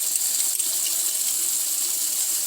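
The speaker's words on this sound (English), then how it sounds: "Now I'm just going to clean up my sink." Tap water running steadily into a large kitchen sink during cleanup after making tomato sauce, a close, even hiss with no talk.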